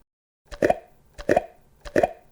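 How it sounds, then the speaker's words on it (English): A jar lid comes off three times in a row, each a short, close, quiet pop with a slight scrape, separated by brief silences. "That is the sound of me opening up a jar."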